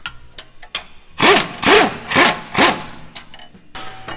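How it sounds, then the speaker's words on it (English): Ratcheting wrench work on the four steering box bolts of a Jeep Wrangler JL, with four evenly spaced bursts of ratchet clicking in the middle, a few sharp metallic clicks before and after, all close and without talk. "you're gonna remove these four bolts"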